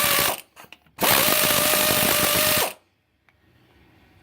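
An Earthquake 3/8-inch pneumatic impact air ratchet works on ATV lug bolts. A short stuttering burst is followed by a loud, sustained rattling whir of almost two seconds, which cuts off into quiet.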